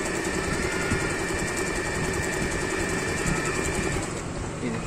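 A Usha Marvela sewing machine runs a regular straight stitch with a steady, close mechanical whir and rapid needle chatter, easing slightly near the end.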